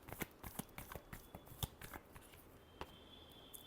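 Tarot cards are shuffled by hand close up, making quiet, uneven riffles and crisp flicking snaps in a quick irregular rhythm, with no voice.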